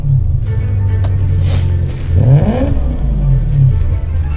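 A BMW M2 G87 engine revs hard, rising and falling in pitch with a throaty roar that swells in the middle before settling into a steady, loud drone.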